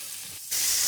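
Julienned carrots hit a hot pan of oil for Afghani pulao, and a sudden bright sizzle erupts halfway through after a quiet moment.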